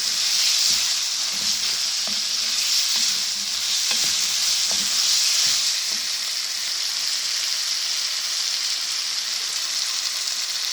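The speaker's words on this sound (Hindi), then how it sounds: "इनको मैं अच्छी तरह भूनूँगी" Peas and mixed vegetables frying in a pot for pulao, a loud, continuous oily sizzle with a few soft stirring knocks near the start.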